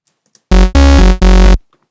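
Three loud, sustained analog synthesizer bass notes with a buzzy, harmonically rich saw tone, each held briefly with short gaps, then silence.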